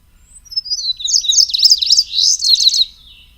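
An indigo bunting sings a recorded song of quick, high, sweet paired phrases, loud and clear, lasting about two seconds with no other sound.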